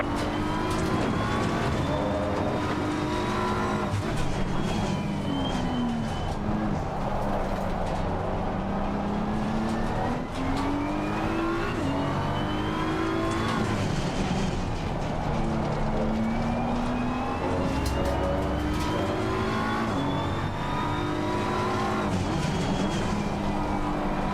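A GT3 race car engine in the Assetto Corsa Competizione sim at Brands Hatch drones loud and steady throughout, its pitch rising through each gear and dropping sharply on upshifts and braking.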